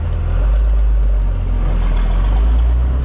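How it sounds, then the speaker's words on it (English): A dually pickup truck on brand-new tires coasting with the throttle off, heard as a steady, loud, low road and drivetrain rumble with a smooth, even hum and no talking. "I let off the throttle and coast this thing in neutral, or in gear, and it's so quiet"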